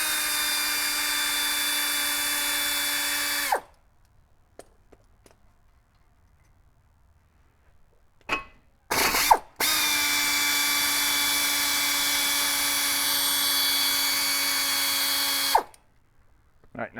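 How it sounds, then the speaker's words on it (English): Power tool spinning out brake caliper bolts on a 2007 Ford Taurus front brake, two sustained loud whirring bursts with a steady whine, separated by a quiet gap with a few small clicks and knocks. "All right, now we're going to take these bolts out."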